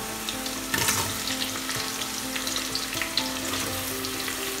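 Chopped onions sizzle in a pan of frying ginger and garlic for a Kottayam-style beef curry. A steady, close crackling hiss comes with occasional stirring clinks and no talk.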